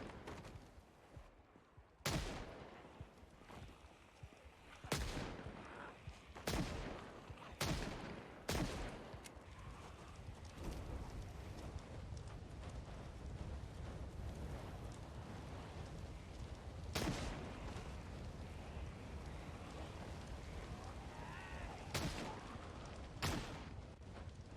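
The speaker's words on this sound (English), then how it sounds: "Since I was already dying, I decided that I might as well shoot a few zombies." Gunfire in Project Zomboid rings out as a series of sharp, loud single shots spaced irregularly against a constant rain-like background hiss while zombies are being shot, with no voices.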